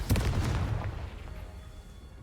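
Confringo spell explosion in the Hogwarts Legacy video game, a single loud booming blast with a crackling burst that quickly decays into a fading rumble.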